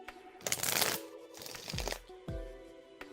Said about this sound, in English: shuffling for your second question